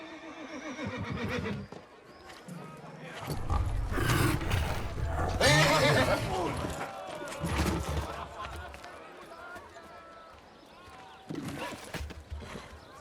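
A horse whinnies loudly in a rousing neigh, with hooves clopping and heavy snorting around it, mixed with people talking nearby.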